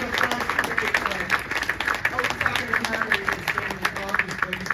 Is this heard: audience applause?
yes